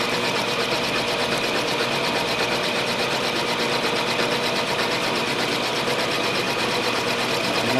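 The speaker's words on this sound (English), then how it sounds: "of course I want this to be the right size, so I'm boring it" A metal lathe bores out a part for a torch trolley under an Arduino-controlled feed, giving a steady, even mechanical whir that runs unbroken throughout.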